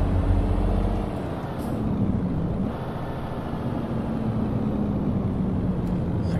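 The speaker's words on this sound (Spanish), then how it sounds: "Vamos haciendo los cambios un poco rápidos, por eso es que suena así." Bus engine in American Truck Simulator, a Turimex coach on Zacatecas highways, revving steadily with quick gear shifts, a loud continuous low drone that dips briefly around each shift.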